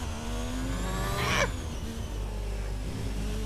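An F3 racing car engine in a video game, set at Mexico, whines past with a rising and falling tone, the sweep of a car flying by, over a steady low engine drone.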